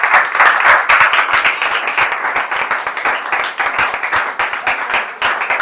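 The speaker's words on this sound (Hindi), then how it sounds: "ताली बजा दो चलो वैसे।" A classroom of students claps hands together in sustained, dense applause, close and loud throughout with no pauses.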